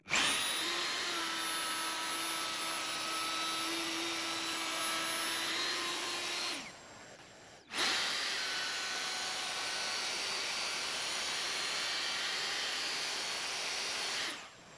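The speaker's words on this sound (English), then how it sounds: "I'm routing above my pencil line to the exact thickness of the shelf" A wood router cuts a housing trench for a shelf in a close, loud, sustained high whine, briefly dipping once before resuming at full roar and then winding down at the end.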